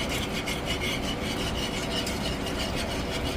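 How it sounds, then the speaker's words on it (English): A whisk scrapes steadily around a pan as coconut milk is worked into melted butter while cooking pasta in an RV kitchen, producing a continuous close rasping swish with no pauses. "now add in that coconut milk and whisk"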